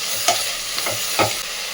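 Tomatoes stirred in a frying pan for white pulao, a constant close sizzle broken by three distinct scraping stirs of a spoon, with no talking.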